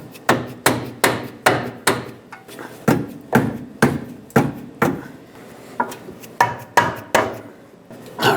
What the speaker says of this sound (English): if you need to tap it at all, use a rubber mallet, not a steel hammer